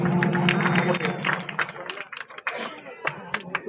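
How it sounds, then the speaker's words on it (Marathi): Crowd applause and scattered clapping at a village mud-ploughing bullock race, with a loud burst of claps that thins into irregular individual claps while an announcer talks over it. "जरा कडकडीत टाळ्या वाजू या गावठी गटाच्या निकालासाठी"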